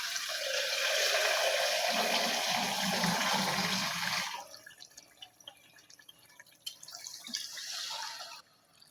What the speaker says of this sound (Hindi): अब हम पानी डालते हैं